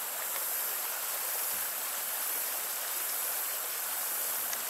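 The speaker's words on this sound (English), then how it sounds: "This is our little creek here." Mill Creek near the 83rd Street bridge in Shawnee, Kansas flows as a small creek, giving a steady, soft, hissing wash of running water that continues without pause.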